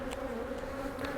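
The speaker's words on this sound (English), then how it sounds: "I got a lot of bees buzzing me right now" Honey bees buzzing around an active beehive in a bee yard, a steady close drone with individual bees passing near, and no voices.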